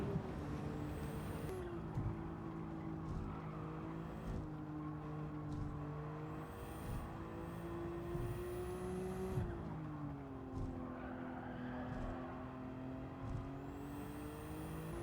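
A race car engine drones in Gran Turismo 7, a loud continuous hum that climbs and dips in pitch as the revs rise and fall through gear changes over about fifteen seconds.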